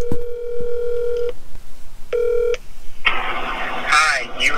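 A telephone plays dialing tones as a call is placed: one long steady tone, then a short one, followed by a burst of rustling noise.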